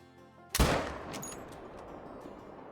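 A single sharp 6.5 rifle shot rings out at a buck in the hunting game Call of the Wild, a loud close crack followed by a long fading echo rolling across open terrain.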